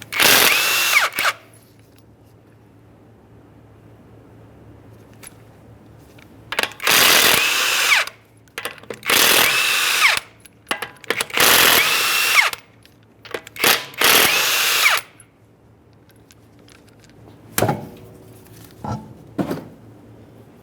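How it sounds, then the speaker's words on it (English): Power tool, likely an impact gun, spinning off five 21mm lug nuts from a 2009-2014 Nissan Maxima wheel in a garage: repeated loud bursts of whirring, each a second or two long, separated by quiet gaps. "we're going to remove all 5 of our 21mm lug nuts and we can get the wheel off of here"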